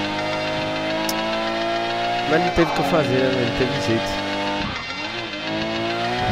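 Skyline R34 in GTA V during a police chase: a high, sustained engine drone with rising revs and several sharp tire skids and squeals, while someone speaks Portuguese over it.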